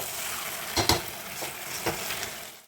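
Hot water hits sizzling chicken kosha in a pan, giving a loud, steady hiss with a couple of brief surges and a soft clink before it cuts off abruptly.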